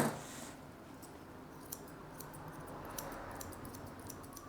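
Several crisp metallic snips of straight scissors trimming a West Highland White Terrier's hair, spaced irregularly over a low steady background hum, close by and fairly quiet.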